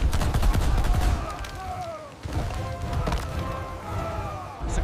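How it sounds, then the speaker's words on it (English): Heavy gunfire from a crowd of armed crew aimed at a giant monster aboard a cargo ship, loud, dense bursts layered over a roaring, chaotic battle mix with whooshing effects. "All units, open fire on the creature now."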